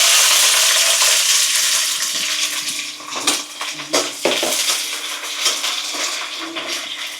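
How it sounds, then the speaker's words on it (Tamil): Onions frying in hot oil for a fish curry, a loud close sizzle that starts strong and eases slightly, broken up by scattered scrapes and clinks from stirring. "அப்படியே வெங்காயத்தை சேர்த்துக்கணும்"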